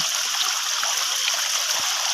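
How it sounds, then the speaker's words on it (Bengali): Steady broadband rush of a waterfall-fed stream on a hill trek between Alikadam and Annum Para, continuous and fairly loud with no voices, a couple of faint low thumps underneath. "আমরা হঠাৎ করে একটা"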